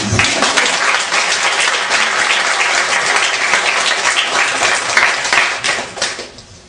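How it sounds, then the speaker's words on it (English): A crowd at a Charity Focus talk by a Gandhian speaker breaks into sustained applause, many hands clapping together in a loud, even roar that thins and fades toward the end. "All right, let's do claps."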